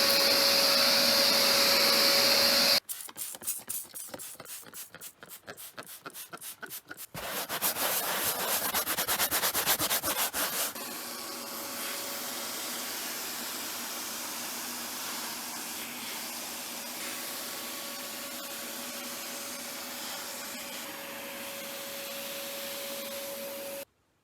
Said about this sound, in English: honestly a carpet cleaner makes a better job because it's just extracting